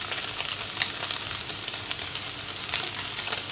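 Spring onion, capsicum and cabbage stir-fry in a hot pan over medium flame for street-style Korean fried rice, giving a steady, close sizzle with light scraping stirs throughout.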